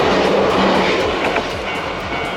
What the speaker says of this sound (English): just these little small commuter trains that you're more used to seeing in the countryside